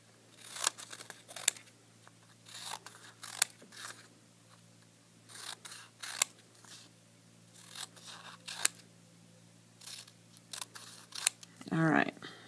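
Scissors snip through a stacked bundle of paper spelling-word strips in a series of short, crisp cuts spaced a second or two apart, close and fairly quiet, ending in a louder rustle of handled paper.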